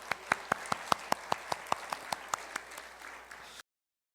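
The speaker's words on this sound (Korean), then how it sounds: "우리에게 복음을 들려주신 하나님께 감사 박수 드리겠습니다." Congregation at a Sunday church service giving applause of thanks, heard as a steady, evenly spaced clapping rhythm, roughly five claps a second, with a dense clap bed underneath that cuts off abruptly.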